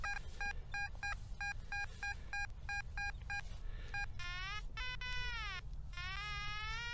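A metal detector sounds its signal tones while sweeping an old stagecoach road: a run of short, evenly spaced beeps, then several longer warbling, bending tones, faint against soft outdoor background.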